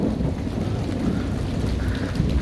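Dense rainfall drums on surfaces outdoors while constant low thunder rolls through a storm, loud and unbroken, with no voices.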